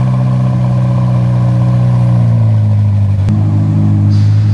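A Ferrari 12 Cilindri's engine runs loud and steady close by, its low drone climbing in pitch partway through as it revs, with no voices over it.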